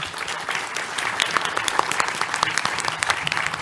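A live audience at a PAX West 2023 panel claps steadily, dense and fairly loud, with a few sharper individual claps standing out and faint murmuring underneath.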